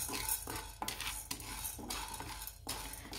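Chana dal is dry-roasted in a pan while being stirred, giving a continuous soft rattling sizzle with rhythmic scraping strokes roughly every half second over a low steady hum.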